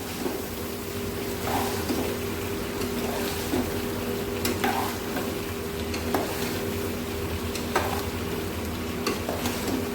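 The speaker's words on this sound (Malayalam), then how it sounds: "ഇത് നെയ്യിൽ വറുത്തെടുക്കാം." Rice for chicken biryani fries and crackles in hot ghee while being stirred, a continuous sizzle punctuated by soft scraping and clicks of the spoon.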